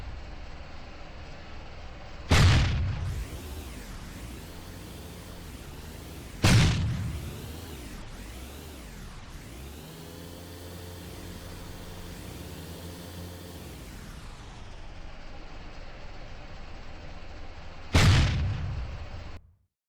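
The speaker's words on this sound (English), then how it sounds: "Now your tank drives and shoots." A player-built tank in the sandbox game Sandbox World 3D Mechanics fires its cannon three times, each a sharp booming blast with a short decay, carried over a steady rumbling engine drone.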